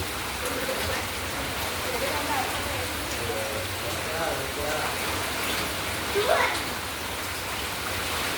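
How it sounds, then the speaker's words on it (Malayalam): Heavy rain falls in a constant hiss during flooding in Kerala, close and unbroken, with faint patter on a hard surface and a brief louder splash near the end. "മഴ കട്ടിക്ക് പെയ്യുന്നു."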